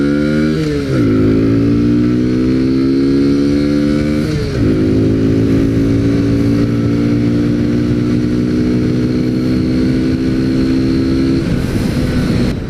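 A Kawasaki Z125 Pro motorcycle accelerating wide open through its gears, the small engine's whine climbing, dropping at each shift, then climbing again, loud and close, steady at high revs before easing off near the end.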